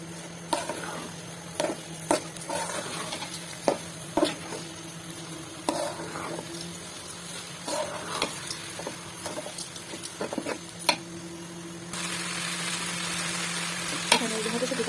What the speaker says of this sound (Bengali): পোলার চালটা ভালো করে ভেজে নিব পেঁয়াজ আদা বাটা সাথে